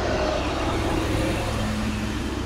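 A car passes close by on a road in Penang, Malaysia, a loud steady engine and tire roar filling the whole moment with no gaps and no voices.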